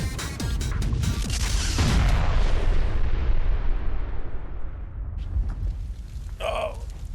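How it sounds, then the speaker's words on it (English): A huge blast from mixing chemicals erupts with a loud roaring rumble and crashing debris that slowly fades into a long settling tail, followed by a brief clatter near the end. "That's going to cause an explosion."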